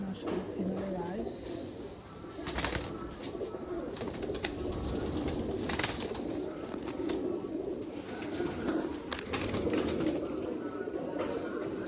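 A breeder pigeon, a Teddy-type bird in moult, coos softly through a noisy, wind-like background. Someone talks over it for much of the time.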